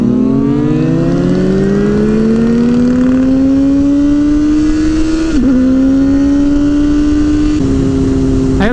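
A Honda CBR motorcycle engine revs up loud and close, its pitch climbing steadily. After a quick blip it climbs again, with another sharp throttle stab right at the end.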